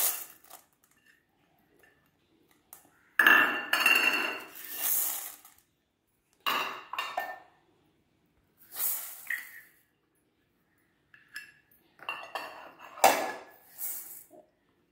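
Soaked adai dosa ingredients are mixed in a vessel, with separate bursts of wet swishing, clinking and sloshing between stretches of near silence.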